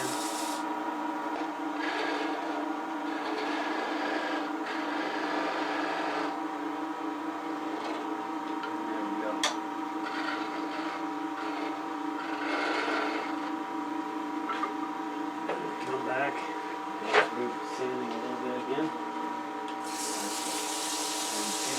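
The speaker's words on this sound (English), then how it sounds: "We'll go ahead and sand." A cherry burl wood pot box being sanded on a lathe, a steady whirring hum with continuous abrasive rubbing, fairly close and even throughout, with no speech.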